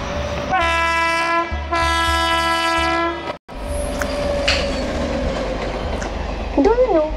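A train on a railway track sounds two long, loud horn blasts, then rolls on with a steady rumbling clatter of wheels on rails, with a few brief high chirps near the end.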